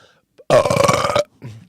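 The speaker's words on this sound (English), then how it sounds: "Nice belch, right?" A single loud, deep belch lasting under a second, close up, with a faint breath before and after.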